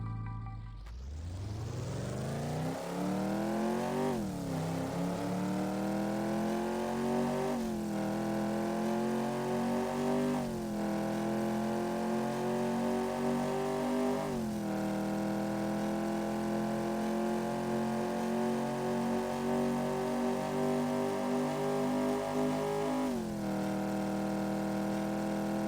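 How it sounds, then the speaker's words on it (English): A Ford GT40's 7-liter naturally aspirated V8 starts up and revs repeatedly, rising pitch sweeps that fall back several times, loud and steady with no talking. "The GT40 has a 7-liter naturally aspirated V8."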